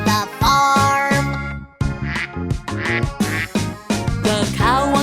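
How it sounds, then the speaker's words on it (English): A duck quacks in a children's farm-animal song, with repeated loud quacks in a steady rhythm over sung music. "The duck on the bus goes quack, quack, quack"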